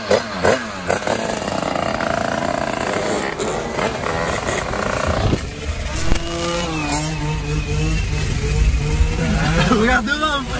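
50cc mopeds ride at night during a wheelie session, their high buzzing engines revving and whining up and down close by while people talk over the noise throughout.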